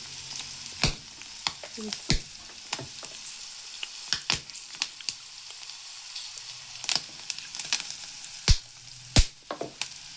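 Oil spits and crackles in a pan over a low flame, with sharp pops scattered irregularly over a steady frying hiss, some bursts loud and close.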